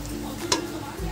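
Mashed pointed gourd (potol) paste gets a quick stir in a hot pan, giving a brief low sizzle with a single scrape of the spatula, close and short.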